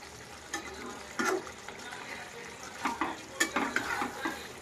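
Chicken kosha curry with garam masala being stirred in a pan, soft sizzling beneath a few scraping stirs and light utensil knocks, fairly quiet and close.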